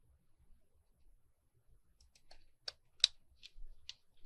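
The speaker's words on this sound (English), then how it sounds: "let's cut the extra off" Scissors cutting the excess album paper off both ends of a handmade Victorian album journal, a few quiet crisp snips growing louder toward the end, alone without talk.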